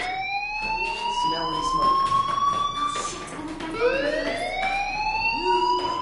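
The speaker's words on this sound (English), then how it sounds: "Hey, do you hear that fire alarm? That means you should be outside." A fire alarm wails in a video game on PS4, its rising and falling electronic tones sweeping steadily and loudly through the scene with other game sounds beneath.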